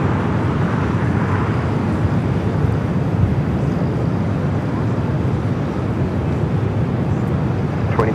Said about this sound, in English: A321 with actual Superman.